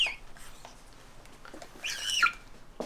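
A captive harpy eagle gives soft, high little calls while feeding, a few brief chirps and a short squealing burst, faint and close, with quiet handling noises.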